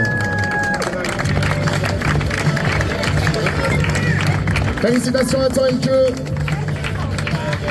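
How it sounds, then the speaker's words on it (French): Crowd applause for the women's podium at a gran fondo cycling event in the Vosges, steady outdoor clapping and cheering underneath an announcer speaking over a PA, with some music. "Applaudissements pour notre podium féminin."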